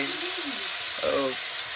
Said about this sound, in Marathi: मेथीची भाजी कढईमध्ये मेथीची भाजी टाकून घेतल्यानंतर